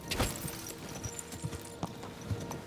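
Horse hooves clopping in the Kingdom Come Deliverance II video game, a run of soft, irregular hoof strikes at moderate distance over a busy ambient background, with no talk.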